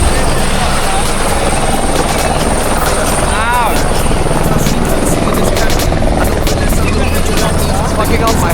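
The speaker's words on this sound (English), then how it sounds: "Helicopters, I've never really been in one, so I'm gonna get in this one now" A helicopter close by, its loud rotor thump and engine roar steady throughout with talking mixed underneath.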